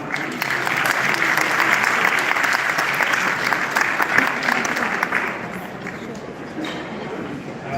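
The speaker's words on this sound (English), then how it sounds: "please give a big round of applause to welcome Dr. N.S. Gandhi" Sustained audience applause at a fundraising dinner welcoming a speaker to the stage, a dense, steady round of clapping from a sizable crowd that holds for several seconds before easing slightly.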